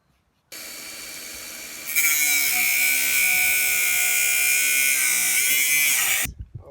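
A power cutter blade bites into a post, rising from a steady whine to a louder, harsher grinding cut that holds for several seconds before stopping abruptly, close and alone.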